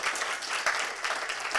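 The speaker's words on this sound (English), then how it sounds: "so give them a quick round of applause too" Dense, steady applause from an audience at a pitch competition, continuous clapping holding an even, fairly loud level throughout with no breaks.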